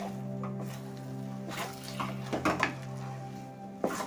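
A spatula stirs freshly cooked sheera in a pan after it has rested covered, with soft scraping, light clinks and a couple of sharper knocks against the metal, close by over a low hum.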